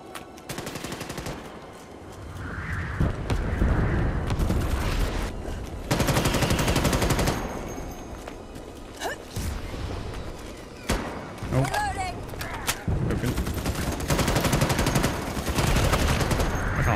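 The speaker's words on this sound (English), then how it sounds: "Explosions could stop, that'd be great." Rapid bursts of gunfire and booming explosions in Starship Troopers: Extermination, loud and near, with brief lulls between volleys and someone talking in between.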